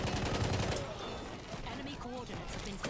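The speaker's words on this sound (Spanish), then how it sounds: "Me están disparando." Gunfire in Battlefield 1, a burst of shots early on that fades into busy battlefield noise, with someone talking over it.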